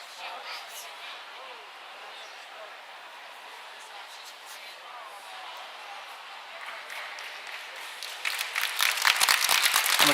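Spectators cheer and applaud at a girls' high school swimming preliminary meet, a soft continuous crowd wash that swells into louder clapping toward the end, with a voice speaking over it.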